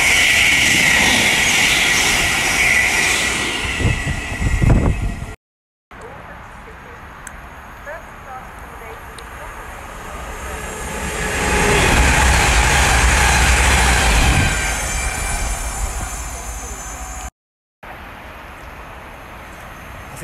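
A multi-carriage train passes through Mill Hill Broadway station, a loud roaring rush that swells and fades, with a short burst of speech near the start.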